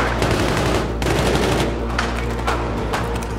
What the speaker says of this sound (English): Oh look, now we're getting shot.